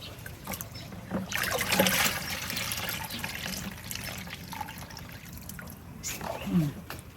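Bamboo shoots being rinsed in plain water, with running, trickling water and soft splashing throughout, a little louder near the start and end.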